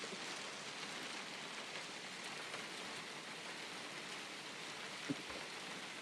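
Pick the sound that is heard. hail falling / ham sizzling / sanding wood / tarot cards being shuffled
hail falling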